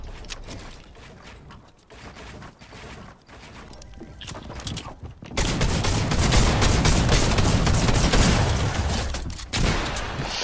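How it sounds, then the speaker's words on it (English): Minigun fire in a Fortnite match: sparse scattered shots at first, then a loud, dense sustained burst of rapid gunfire that runs for several seconds near the player. "The fucking minigun, bro."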